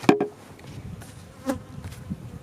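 Honey bees at a beehive hum faintly with a few brief louder buzzes as individual bees pass close, with soft knocks and handling noise around the hive.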